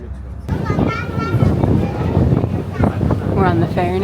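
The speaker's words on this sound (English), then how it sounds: "It's quite windy." Wind buffets the microphone in a steady low rumble while a person talks over it, with engine hum and open-air noise of a ferry to Alcatraz underneath.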